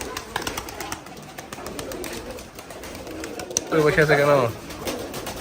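Pigeons perched in a loft, one giving a clear, loud burst of cooing near the end after a stretch of quieter rustling, with a person talking over the start.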